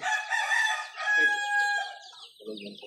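A chicken clucking and crowing close by on a farm, a few strained calls in a row, loud and clear with faint talk in the background.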